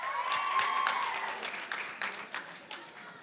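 Audience applause for a poet at a youth poetry session, a dense patter of clapping that fades gradually over a few seconds, with some talk mixed in.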